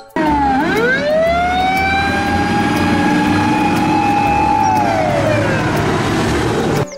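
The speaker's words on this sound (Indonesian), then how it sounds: "Wow, lihat teman-teman, di sini ada mobil pemadam kebakaran." A loud fire truck siren wails steadily, its tone sweeping up, holding a long high pitch, then sliding down, close by and continuous.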